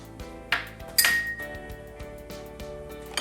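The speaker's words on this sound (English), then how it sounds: "We're gonna mix those together and whisk them up." A whisk stirs flour, salt and baking powder in a bowl for a cake batter, giving a few bright metallic clinks and taps against the bowl over a soft, steady background.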